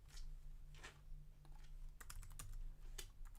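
Faint computer keyboard typing at a distance: scattered short key clicks, then a quick run of keystrokes, over a low steady hum.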